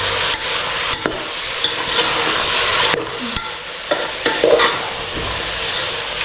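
Vegetables including carrot are stirred and fried in a pan for soybean pulao, giving a loud continuous sizzle broken by scraping spatula strokes and clacks against the pan, with no talking.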